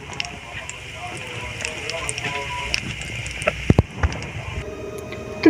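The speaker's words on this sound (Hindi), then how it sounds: "अब दूसरी साइड भी हल्की आंच पे ही फ्राई करेंगे और थोड़ा सा ऑयल जो मैं दोबारा से डाल लूँगी।" Egg and potato cutlets sizzle in oil over a low flame, a steady soft frying crackle with scattered sharper pops, close by and continuous.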